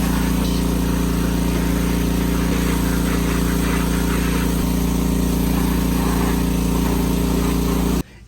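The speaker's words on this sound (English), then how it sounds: "As soon as I started hitting the frame rails and stuff with the pressure washer, a whole lot of that paint started flaking off." A pressure washer runs steadily and loudly as it blasts flaking paint off a vehicle's frame rails, its engine drone constant throughout and then cutting off abruptly at the very end.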